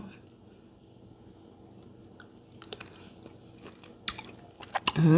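Chewing and biting into a Thai fermented pink shrimp salad (kung som) with red and green chili, shallot and garlic, a few close, wet crunching bites near the end after a quiet stretch.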